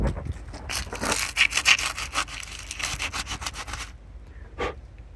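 Grime is scraped off an old part from a junkyard 1983 Chevrolet Silverado in quick, rough, repeated close-up strokes. The strokes stop near the end, leaving only faint taps.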